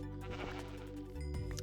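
Sheep bleat in a video game set aboard a space rescue mission, a couple of close, wavering bleats over a steady hum of game music and ambience.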